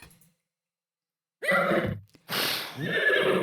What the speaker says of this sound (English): does it have a different neigh when it's a unicorn?